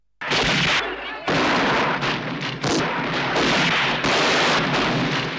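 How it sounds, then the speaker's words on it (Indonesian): Rapid gunfire during a film shootout between bandits and police, with dense, loud bursts of shots that continue almost without a break over a few seconds. "sehingga terjadilah aksi tembak menembak yang tidak begitu seru"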